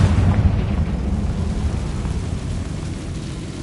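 A Confringo spell explosion in Hogwarts Legacy rumbles out as a deep, loud, rolling blast that slowly fades, with no voices over it.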